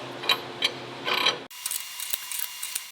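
A wrench tightening a bolt while a Split-fire log lifter is installed, close metallic ratcheting clicks in short irregular bursts, a pause, then a run of sharper mechanical ticks.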